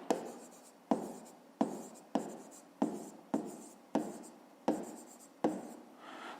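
Pen or pencil writes out a fifth-grade math solution on paper, a close rhythmic series of about nine scratchy strokes at an even pace, each starting sharply and trailing off.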